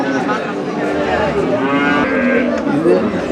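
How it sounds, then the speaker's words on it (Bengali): Cattle low and moo repeatedly at a busy livestock market in Kaitla, Tangail. The drawn-out moos sound close over a steady crowd murmur. "অনেক গরু আছে তো আজকের হাটে"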